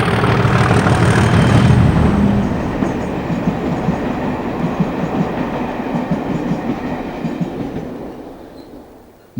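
Class 37 diesel locomotive 37154 hauls a Cardiff to Bristol Temple Meads train past, a loud rumbling roar at first that gives way to rhythmic clickety-clack of wheels over rail joints, fading as it moves away.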